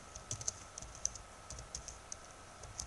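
Someone types on a computer keyboard while naming a folder on a flash drive, producing light, irregular key clicks in short bursts, close and quiet over a faint steady background hum.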